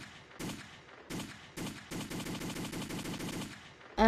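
In a Roblox first-person shooter game, a gunfire sound effect plays as a few single shots followed by a rapid automatic burst. The shots are moderately faint and end with a short bright ping.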